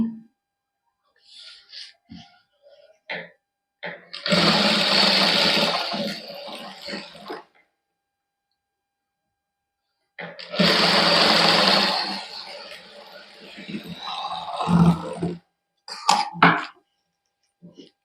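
A sewing machine stitches a salwar-fabric patch onto a neckline in two loud, close bursts of whirring, separated by quiet pauses and a few soft handling clicks.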